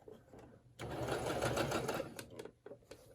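A sewing machine runs a steady burst of stitching onto a scrap piece of fabric, rattling evenly for about a second and a half before stopping, with a few soft clicks around it. Close and fairly quiet.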